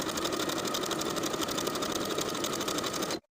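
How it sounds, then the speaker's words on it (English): A sewing machine top stitches a T-shirt sleeve hem with a twin needle, a close, fast, even whir that holds steady for about three seconds and then stops sharply into silence. "top stitching all the way around with a twin needle"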